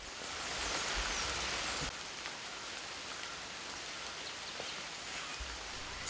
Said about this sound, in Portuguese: Estamos debaixo de uma típica chuva tropical.